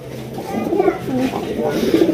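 A male pigeon coos close by, a short run of low, throaty, rolling coos repeated in quick succession.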